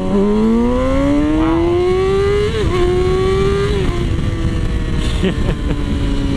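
A Yamaha R6 sport motorcycle, modified, cruising in second gear around 6,000 RPM, a loud steady engine whine slowly rising in pitch with a brief dip, heard close over heavy wind rumble.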